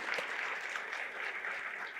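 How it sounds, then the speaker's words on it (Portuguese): An audience claps steadily in a soft, continuous burst of applause that stays fairly quiet and distant for the whole moment. "uma salva de palmas para o Júnior Neves e para a Liana"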